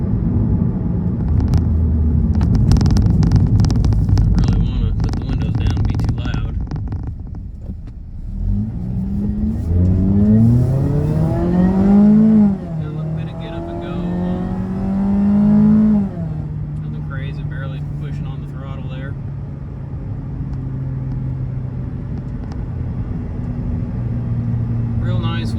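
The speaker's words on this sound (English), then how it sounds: "There's not much drone from the exhaust, but it still sounds pretty good inside the cabin." Inside the cabin of an Edelbrock-supercharged Mazda Miata ND2 RF, the engine and exhaust rev up loudly in rising sweeps through the gears, then settle into a low, steady cruising drone. A person talks over the opening seconds.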